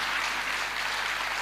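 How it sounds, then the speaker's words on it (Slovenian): Audience applause at a Slovenian interview event for a Zasavka of the Year nominee, a steady wash of clapping held at an even level throughout, with no voices over it. "kar aplavz"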